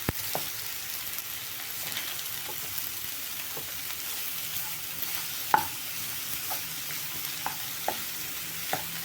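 A spatula scrapes and stirs finely chopped cabbage in a pan for chicken cutlet, with soft sizzling and occasional sharp taps against the metal, no voices.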